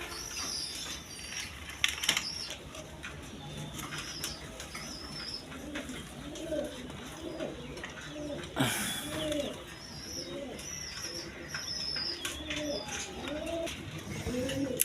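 Indian Bombay pigeons, white-beaked birds kept for sale, coo repeatedly in soft rolling calls close by, with occasional wing flaps and a busy background hum.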